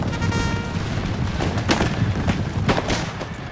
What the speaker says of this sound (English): He's got pistols, so we will be able to have him fire pistols towards the approaching regiment.